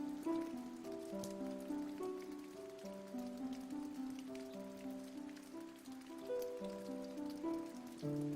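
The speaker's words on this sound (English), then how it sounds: "He was sat still in the pouring rain." Pouring rain from a visual novel game patters steadily at a soft level, with a gentle melodic music line playing over the rain throughout.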